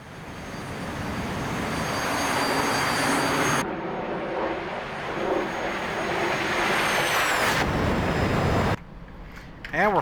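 An MB-339A jet trainer climbs out just after takeoff in the DCS flight simulator, its engine a loud, steady broadband roar that holds for several seconds, briefly drops, then returns before cutting off.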